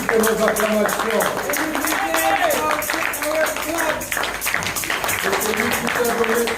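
Rhythmic group clapping from a church congregation during a full worship service, sharp regular beats running throughout beneath a prominent voice talking or singing.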